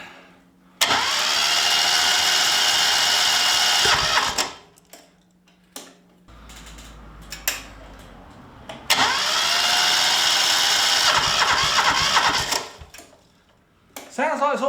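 An old lawn mower engine pulled from long grass is cranked repeatedly, giving two long, loud bursts of mechanical whirring a few seconds apart with quieter clatter between; a person speaks briefly in the gaps.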